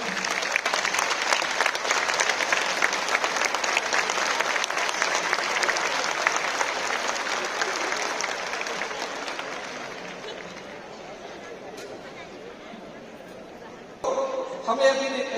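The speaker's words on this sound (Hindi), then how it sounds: "अपने स्थान से खड़े होकर माननीय मुख्यमंत्री जी का तालियों से स्वागत करें।" Employees at a convention give a long, loud round of applause, dense clapping that gradually thins and fades before a voice comes in over a speaker at the end.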